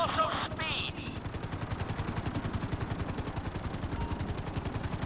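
A helicopter in Grand Theft Auto V with a fast, steady rotor chop pulsing evenly throughout, loud and close, while a brief high-pitched game sound plays at the start.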